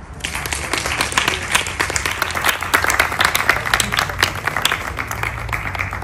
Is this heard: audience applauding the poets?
yes